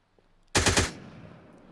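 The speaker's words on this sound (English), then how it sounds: "Who's shooting?" A short, loud burst of automatic gunfire in the survival video game Miscreated, a rapid string of about four or five close shots in under half a second, followed by a fading reverberant tail with no talk.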